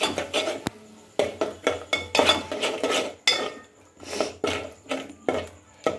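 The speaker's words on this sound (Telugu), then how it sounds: "మసాలాని యాడ్ చేసిన తర్వాత ఒకసారి కలుపుకుందాం ఫ్రెండ్స్" A utensil stirs masala paste into chicken curry in a metal pan, making repeated scraping and clinking strokes in an uneven rhythm, close and fairly loud, with no voices.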